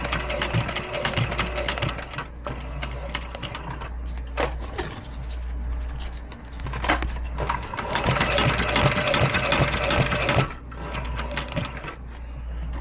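Sewing machine stitching leather ammo loops for a Cobra Class 4 holster, a steady mechanical whir with rhythmic needle chatter running continuously at close range, briefly pausing a few times, with no talk.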